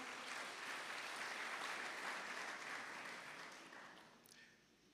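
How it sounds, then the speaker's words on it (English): A large audience at an awards function claps in a dense, continuous wash of applause that gradually tapers off toward the end. "we are applauding because it is top"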